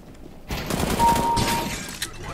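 Burst of suppressed MP5SD gunfire in CS:GO, a short, fairly loud clatter of shots about two seconds long with no talk over it.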